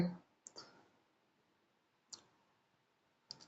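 Computer mouse clicked a few times at separate moments, each click short and crisp, near and fairly quiet, with a brief voice at the very start.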